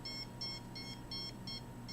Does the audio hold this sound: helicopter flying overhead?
no